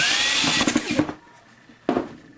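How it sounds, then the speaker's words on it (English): A power drill whirs loudly for about a second as it drives a screw into a drum pedal mounting, stops, then gives one more short burst. "Get my drill, screw it in."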